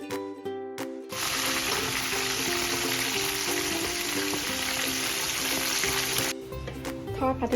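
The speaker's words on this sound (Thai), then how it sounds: "ไปทอดปลาทูกันเลย" Mackerel (pla thu) frying in a pan of hot oil: a steady, loud, bright sizzle that starts abruptly and holds for several seconds, with short stretches of background music before and after.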